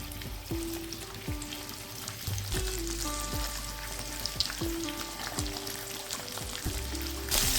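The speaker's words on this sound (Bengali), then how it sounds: "আমি আরেকটি কড়াইতে মাথাগুলো ভেজে নেব" Fish heads sizzle as they fry in hot mustard oil in a wok, a soft, constant crackle with occasional light metal clinks and no one speaking.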